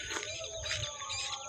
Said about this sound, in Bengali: পাখির শব্দ শোনা যাচ্ছে